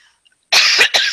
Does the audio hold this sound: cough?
yes